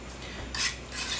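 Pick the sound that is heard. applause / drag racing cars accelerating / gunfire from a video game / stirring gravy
stirring gravy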